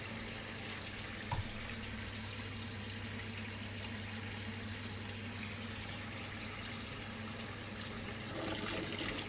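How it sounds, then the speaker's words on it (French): Hot water tap turned on to check that a domestic boiler fires up, a steady rushing flow of water close by, continuous and alone without voices. "pour tester ça, on allume tout simplement l'eau chaude"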